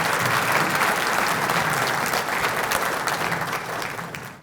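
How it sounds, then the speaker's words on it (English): Meeting audience applauding panelists at a development authority annual meeting, a dense steady clapping from a full room that holds strong for a few seconds, then slowly fades. "let's give our panelists a great round of applause for being with us today"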